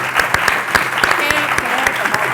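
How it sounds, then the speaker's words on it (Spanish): An audience at a book presentation applauds a guest with a burst of clapping, individual claps standing out near the microphone over a crowd. "Pediría un aplauso para él"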